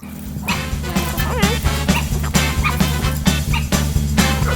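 A dog barks and yips repeatedly in short bursts, fairly close, over a steady low hum and background music.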